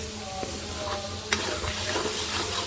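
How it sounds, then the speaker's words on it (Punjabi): Browned masala of onion and tomato frying in a pan for stuffed karela, a close steady sizzle with light stirring scrapes and one sharp clack from the spoon partway through, no voices. "ਸਾਡਾ ਜਿਹੜਾ ਮਸਾਲਾ ਕੀ ਇਹ ਭੁੱਜ ਗਿਆ ਚੰਗੀ ਤਰ੍ਹਾਂ ਬਰਾਊਨ ਹੋ ਗਿਆ"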